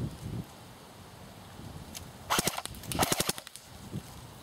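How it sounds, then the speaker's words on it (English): Bursts of rapid full-auto fire from an AGM MP007 MP40 airsoft electric gun, two short rattling volleys outdoors near the microphone, with faint wind between them. "I'm going to shoot a second magazine. Full auto."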